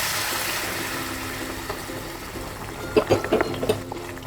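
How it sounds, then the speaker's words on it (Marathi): Hot water pours steadily into a Bombay duck masala curry in a pan, a close continuous rush that fades, followed by a few light clinks of utensils. "त्यामध्ये गरम पाणी घालायचं आहे"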